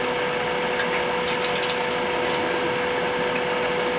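A wooden part spins on a lathe while a quarter-inch tenon is turned into it, giving a steady whirring hum with light scraping and rubbing of the cutting tool against the wood.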